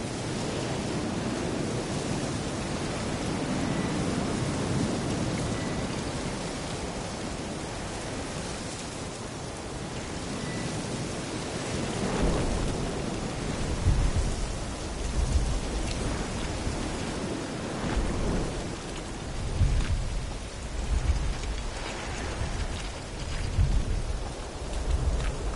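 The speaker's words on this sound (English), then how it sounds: "Looks like rain." Rain falling in The Witcher 3 on PS4, a dense continuous hiss of heavy rainfall, with low rumbling swells toward the end that suggest distant thunder; no voices.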